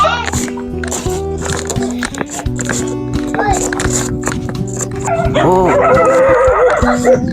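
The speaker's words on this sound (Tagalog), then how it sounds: "May mga aso." Dogs barking and yipping amid loud outdoor commotion and people talking, with a busy, cluttered mix of voices and barks throughout.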